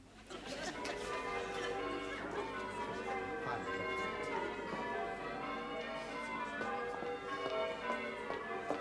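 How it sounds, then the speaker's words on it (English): Church bells ringing continuously with overlapping tones, sounding somewhat muffled and distant, played back from a tape recording. "The bell's on the blink, so we're having to use this tape instead."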